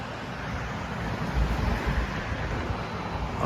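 Fast-flowing river water on a Ladakh trip rushes steadily as a dense, continuous roar with a slight swell in the middle, wind buffeting the microphone and no speech.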